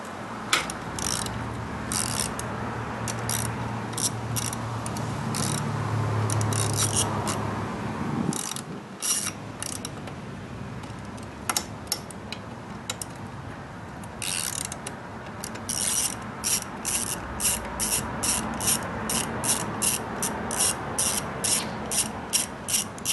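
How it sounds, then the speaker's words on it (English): Bolts being unscrewed from the rear wheel area of a Chinese scooter with a ratchet wrench, bursts of rapid close clicking ratchet strokes separated by pauses, with no talking. "So little by little unscrew all these bolts right here, one by one, okay?"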